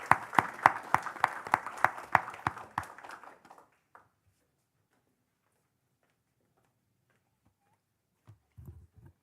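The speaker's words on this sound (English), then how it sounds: "Give her a round of applause." A small group claps at a city commission meeting, a few seconds of loud, separate, rhythmic claps that stop abruptly, followed by near silence and a faint noise at the end.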